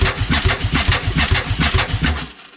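Suzuki TL1000R motorcycle engine cranked over by the starter with the throttle held wide open, a loud rhythmic chugging of even pulses that stops abruptly.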